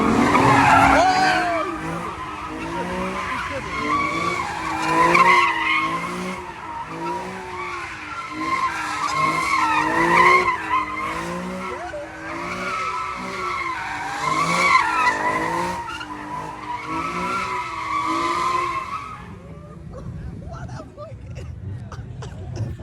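A car sliding sideways at a JDM car meet, its tires squealing in long wavering howls for about twenty seconds. The squeal is loud and close and swells and fades several times before cutting out.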